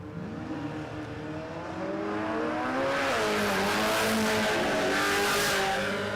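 A Holden Commodore Ute revs hard down a drag strip at Warwick Dragway, the engine note climbing through rising sweeps and growing louder, heard from trackside with crowd-like wash behind it.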